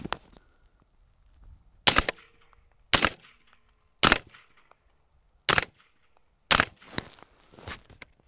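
A Spikes Tactical Brown Recluse suppressed 9mm short-barreled rifle fires single shots at an outdoor range: six sharp, muffled cracks spaced about a second apart, the last two closer together, with faint clinks between them and no talk.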